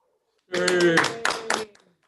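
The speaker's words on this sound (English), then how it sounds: "let's give a final round of applause for all of these fine folks" Brief round of applause from attendees at a county awards ceremony, a short burst of clapping with a voice over it, rising sharply and fading after about a second.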